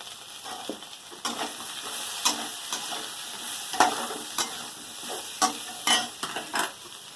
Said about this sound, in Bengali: উচ্ছে আলু সজনা ডাঁটা নাড়া হয়ে গেছে